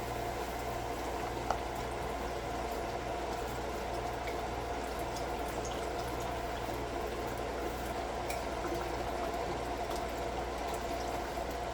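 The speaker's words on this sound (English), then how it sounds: "I'm going to pour this whole can of this chicken broth, or box" Chicken broth pours from a box into a pot in a steady, continuous liquid gush with a faint hum beneath, even and unbroken from start to finish.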